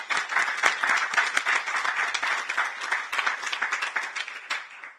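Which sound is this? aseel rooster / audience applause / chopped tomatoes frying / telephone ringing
audience applause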